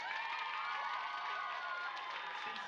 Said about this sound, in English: Could we have a round of applause to get this show started?